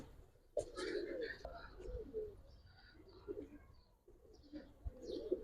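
Giribaz pigeons on a rooftop coo in soft, low, repeated bursts, close by, while people talk over them.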